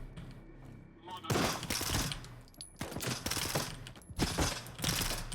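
Gunshots from Rhino and APSB weapons in STALKER 2, with several loud, spaced reports mixed with faint mechanical clicks and handling noise, the shots sounding close and separated by short gaps.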